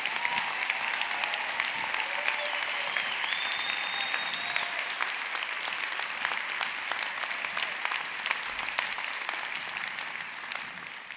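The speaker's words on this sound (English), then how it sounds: "can we give a round of applause to Ashley and Leland and Danielle" Sustained crowd applause fills a hall after speakers share their stories, a dense steady clapping that goes on evenly for several seconds, with a brief high whistle near the start.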